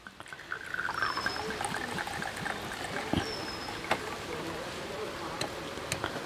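Homemade fruit wine is poured into an aquarium, making a continuous trickling splash with scattered small plops and drips, close and fairly soft.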